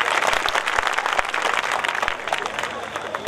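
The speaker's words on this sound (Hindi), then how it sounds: "एक बार तालियां अपने लिए बजाइए, खुद के लिए, स्वयं के लिए," Audience at a live comedy show on a riverside ghat clapping in a dense, steady burst of applause, with a few sharper individual claps and a voice talking over it.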